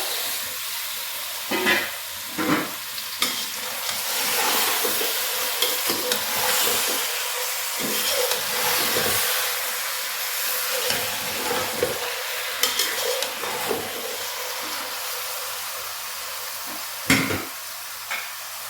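Two kilos of mutton frying in karahi masala for a dhaba-style mutton karahi, loud continuous sizzle with repeated scraping stirs and clanks of a spoon against the pan, close up and without voices.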